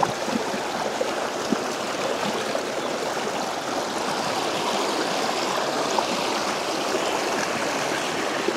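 Steady rushing of the Pinagsabangan River in Bailen, Cavite flowing over rocks near its last waterfall, a continuous broadband wash with no pauses, fairly close and even in level throughout.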